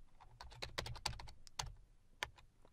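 Keys clatter on a computer keyboard as a short directory-change command is typed at a Windows PowerShell prompt, a quick irregular run of close, crisp clicks with brief pauses and a final sharper tap.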